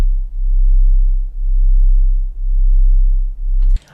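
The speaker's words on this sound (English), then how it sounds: "So at its core, this is about as simple as a Reese can get." A simple Reese bass synth built from sine waves drones low and loud, its steady tone swelling and dipping in slow regular beats about once a second, then cutting off abruptly.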